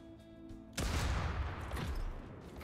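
A snapshot attack fires in the tactical game Kriegsfront Tactics, a sudden loud burst of gunfire that cuts in after a quiet hum and rolls on as dense crackling shots and rumble to the end.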